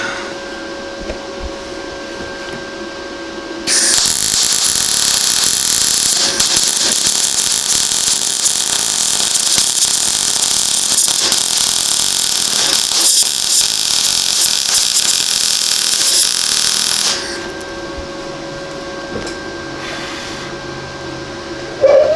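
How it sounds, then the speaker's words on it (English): Welding a motor mount on a Tao Tao 110cc quad produces one loud, continuous crackling buzz that runs for about thirteen seconds, up close, with quieter room noise before and after and no talking. "I'm going to try and get this welded up without burning the quad down"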